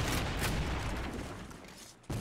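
An explosive barrel blows up in a Civil War-themed Call of Duty game, a loud booming blast with rumbling debris that fades, followed by a sudden fresh thump at the end.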